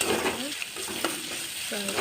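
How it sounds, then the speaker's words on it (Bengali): Onions frying in a pan give a brief, close sizzle, punctuated by a few quick stirring scrapes over about two seconds. "পেঁয়াজটা দিয়া পেঁয়াজটা ভালো করে ভাজা"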